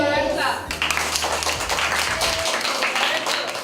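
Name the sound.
people clapping for a student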